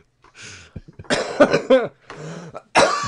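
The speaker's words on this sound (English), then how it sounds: "You made me cough." A short throat-clearing cough followed by a couple of harsh coughing bursts, close and loud, with brief pauses between them.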